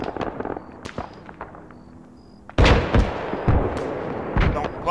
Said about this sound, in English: there's shots coming in from the southwest here, boys